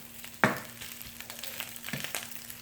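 Homemade crab cakes frying in a pan until crisp and brown: a steady soft sizzle with a sharp clatter near the start and a few quieter scrapes later, heard up close with no talking.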